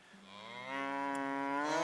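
Cows mooing in Medieval Dynasty, a long drawn-out bovine call that starts low and swells louder, close and clear with no talk over it.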